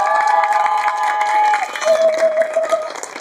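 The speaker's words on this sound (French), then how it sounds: "Applaudissez pour vous." An outdoor crowd at a campaign gathering in Koulamoutou, Gabon, claps and cheers in a dense wash of noise, with shouts and whistles carrying over it, sustained for a few seconds before tapering off.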